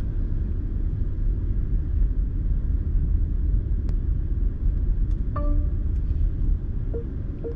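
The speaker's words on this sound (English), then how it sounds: "and now I engage reverse gear." A 2021 BMW 530e M Sport plug-in hybrid reverses automatically. A low, steady cabin rumble is heard from inside, with a few brief electronic chimes near the end and no talking.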